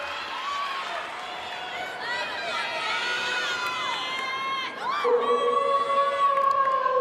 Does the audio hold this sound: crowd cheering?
yes